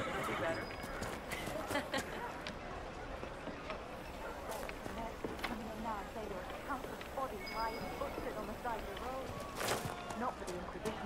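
Horse hooves clip-clopping in the fantasy video game Dragon Age Inquisition, a steady trotting rhythm with an occasional whinny over a busy game soundscape and background speech.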